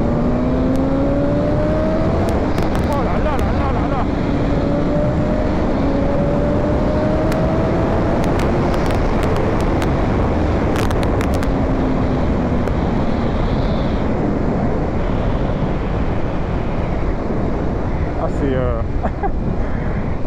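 A 2020 BMW S1000 RR motorcycle accelerating hard with rider aids switched off, its engine note climbing steadily through gears under strong wind roar, with a short gap mid-run before pulling again.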